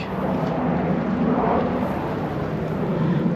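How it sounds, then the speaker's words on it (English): Airplane flying overhead above the Madeira coast, a steady broadband engine roar that holds loud and continuous throughout, with no talk. "this is proof of the planes. There is one just above me as we speak."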